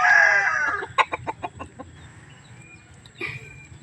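Chickens cluck in a quick series of short, distinct calls, with a louder burst at the start and another call near the end, close by in a quiet yard.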